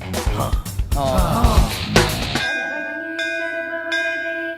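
A school bell rings for interval with steady sustained tones after a burst of voices and commotion, the ringing lingering and repeating near the end.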